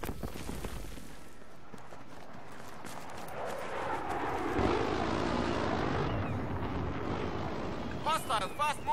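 A jet aircraft roars past in Battlefield 3, a broad rushing drone that swells toward the middle of the scene, mixed with battlefield noise.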